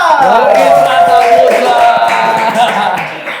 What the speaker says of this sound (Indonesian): Berikan tepuk tangan yang paling meriah untuk Bang Isra.